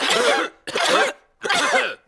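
Three loud, harsh coughs in quick succession, each a broad rasping burst separated by short pauses, close up with no talking, from a character in the animated cartoon Peppa Pig at a hospital.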